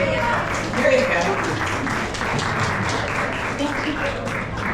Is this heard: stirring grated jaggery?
no